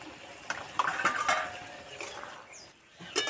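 A spoon scrapes and stirs pabda fish curry in mustard oil in a metal pan after green chillies, chopped coriander and garam masala go in, with soft clinks and light sizzling in short bursts.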